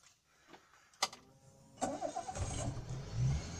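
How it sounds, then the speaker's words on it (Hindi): A 2011 Suzuki Cultus engine cranks briefly with a faint click and then catches, settling into a steady mid-pitched idle close by, with no talking. "अब जो है मैं गाड़ी को कर लेता हूँ स्टार्ट"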